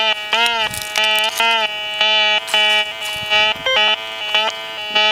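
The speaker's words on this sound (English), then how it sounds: "Hear that one little beep over here?" A White's MX Sport metal detector gives a run of close, loud, tonal beeps, about ten short bleats in a loose rhythm with brief gaps between them.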